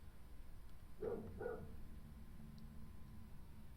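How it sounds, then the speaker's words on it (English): Dogs bark from the floor above, two short muffled barks in quick succession, then only a low room hum. "I can't even get a sentence off with these stupid dogs"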